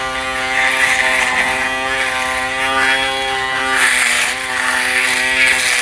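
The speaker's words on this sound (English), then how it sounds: "You can hear it there, chewing the hair off my face." Aberlite Touch 2 head shaver cutting facial hair, giving a loud, close, steady buzzing drone with a slight rasp as it chews through stubble, continuous with no talking.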